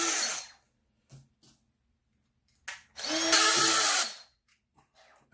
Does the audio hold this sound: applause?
no